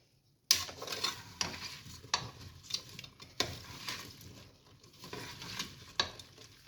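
Mixed vegetable pickle being stirred in oil with vinegar in a pot, giving a run of close scraping, clinking stir strokes with a soft sizzling bed beneath, repeated every second or so without talk.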